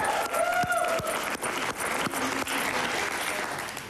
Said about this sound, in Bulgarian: Ето аплодисменти от цялата публика имаш.